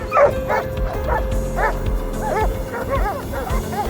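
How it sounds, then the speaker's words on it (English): Hunting dogs bark in quick, repeated yips and bow-wows while driving a wild boar from cover, a dense chorus of several dogs at mid distance over a constant low rumble. "the dogs caught the scent and drove the hog out of hiding"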